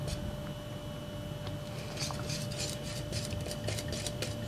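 A spoon scrapes and clinks against a pot of chocolate pudding on the stove, with light irregular metallic taps over a low, steady background hum.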